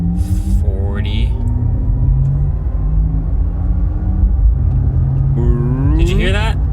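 A Porsche Taycan electric car accelerating, with its two-speed gearbox shifting: a steady low road rumble runs throughout under a rising electric motor whine, while a person talks over it.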